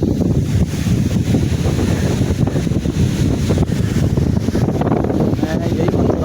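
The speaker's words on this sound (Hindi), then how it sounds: "ये हवा चलना का जो आवाज़ है ये आप सुन रहे होंगे इसमें" Steady, loud wind buffeting the microphone beside a canal road in summer, a continuous broadband roar with gusty fluctuations and no other distinct sounds.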